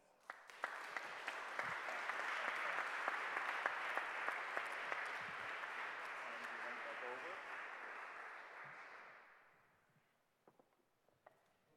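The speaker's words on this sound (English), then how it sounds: "thanks very much before we close for being up here with a round of applause" Audience applauding a panel at the close of a session, a steady, fairly distant wash of clapping that fades out toward the end, followed by a few stray claps.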